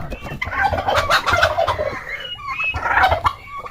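A turkey gobbles loudly and close, two rolling bursts of warbling calls with a short pause between, over faint clucking.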